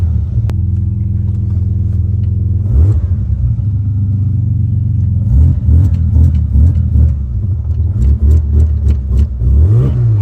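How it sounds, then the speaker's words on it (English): A car drifting at the Freedom Factory idles with a deep rumble, then revs hard in rising and falling sweeps, firing a rapid series of sharp backfire cracks up close. "It's backfiring."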